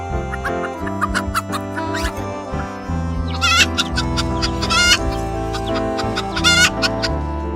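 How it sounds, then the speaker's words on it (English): A hen clucks in short repeated bursts over a musical backing, the bird calls rising clearly a few times amid steady accompaniment. "Hen."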